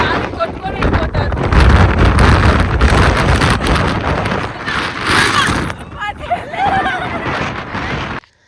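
Strong, steady wind buffets the microphone on a misty hilltop during a monsoon trip in Coorg and Chikmagalur, roaring loudly and nearly continuously with a brief lull before it cuts out.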